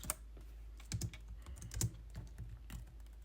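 Quiet, close typing on a computer keyboard while C++ code is written, irregular clicks and key taps in small bursts with brief pauses.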